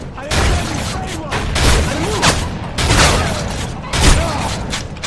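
Gunfire in the Modern Warfare 3 Survival mode on the Seatown map: loud, dense bursts of shots and booms in quick succession throughout, heard without speech.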